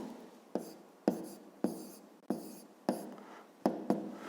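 Numbers written by hand during a fifth-grade maths exercise: about seven quick, sharp scratching strokes at an even pace, each fading fast. Close and clear, with no talking.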